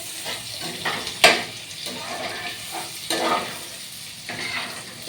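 Pasta ingredients are sautéed in a pan, a continuous sizzle broken by several sharp scrapes and clacks of a spoon against the pan as they are stirred.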